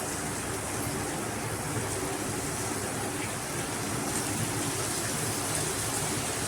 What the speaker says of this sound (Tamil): பாருங்கள் எப்படி சத்தம் வருதுன்னு இந்த மாதிரி சத்தம் வந்து பொறிஞ்சால் தான் பூந்தி வந்து கிறிஸ்பியாக